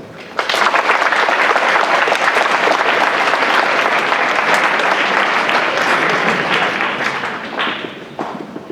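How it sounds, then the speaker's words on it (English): An audience at an event for a private school gives a sustained round of applause, dense steady clapping starting abruptly, holding loud for several seconds, then tapering off near the end. "let's give a round of applause to them"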